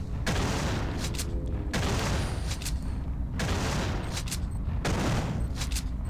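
Repeated shotgun blasts firing pellets at a rumbler creature in the game System Shock 2: four loud booming bursts roughly every second and a half, each trailing a rattling tail, with no talk.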